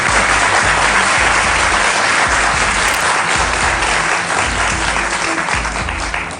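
A studio audience applauds loudly and steadily for a guest on a Spanish-language talk show, dense clapping filling the whole stretch and easing slightly toward the end.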